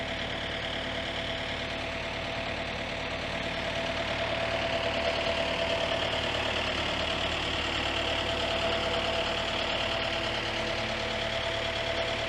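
An excavator's diesel engine runs steadily on a homestead, a continuous mid-pitched drone with a faint knocking texture, close and even throughout with no talking.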